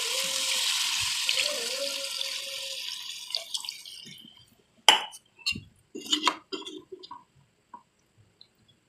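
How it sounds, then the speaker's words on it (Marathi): Hot water pours steadily into a pot of chicken curry for a few seconds, then stops, followed by a handful of light clinks and knocks of utensils. "गरम पाणी ॲड करूया"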